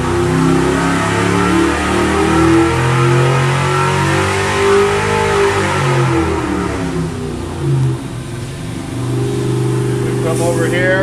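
A car engine on a dynamometer revs up through a 3,000 to 6,000 RPM pass, a loud, steady rising roar with shifting engine tones and someone talking over it.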